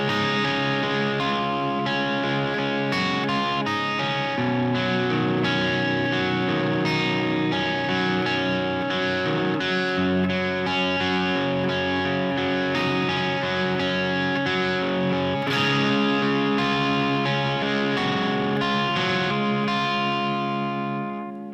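An electric guitar with slight distortion plays the verse of a song, a continuous picked melodic line that rings steadily and fairly loud throughout with no talking.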